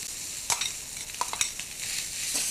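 Minced pork stir-fried over high heat in a wok with finely chopped spring onions, giving a steady broadband sizzle broken by a few sharp clicks and scrapes of the utensil against the pan, close and continuous.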